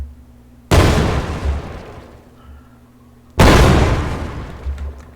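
Two loud, close tank cannon shots in the video game Geist, each a sharp heavy blast followed by a long rumbling decay, spaced roughly three seconds apart.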